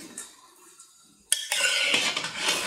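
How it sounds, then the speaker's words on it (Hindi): Rabri being stirred in a metal pan while it cooks down into khoya, with a sharp utensil knock, then steady scraping and clinking against the pan bottom, close and moderately loud. "इसको आपने बिल्कुल भी हाथ को रोकना नहीं है, हिलाते रहना है।"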